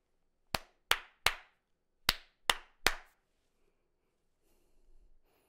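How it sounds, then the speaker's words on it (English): Six crisp hand claps in a call-and-response rhythm during a percussion lesson, grouped in two quick sets of three, close and clear over silence, followed by faint shuffling. "I want you to use the call and response method and clap what I clap."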